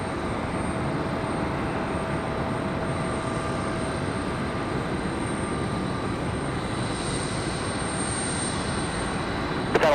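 An airliner on an Iceland flight pushing back at Raleigh-Durham International Airport, a steady heavy engine rumble and whine droning evenly throughout, with no voices.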